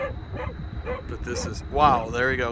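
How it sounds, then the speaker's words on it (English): A dog barks and yips repeatedly, agitated by a lightning storm near Prescott, with short bursts spread across the clip while a person talks over it nearby. "You can hear my dog barking."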